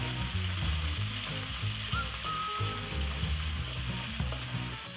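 Pixian doubanjiang bean paste sizzling in oil with ginger slices and onion, a dense, even frying hiss held close with a low rumbling hum beneath and no speech.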